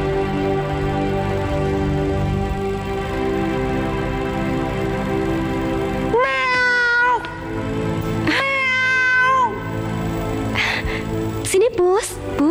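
A white cat meows in three or four drawn-out, wavering cries in the second half, close and clear, after a stretch of steady background noise.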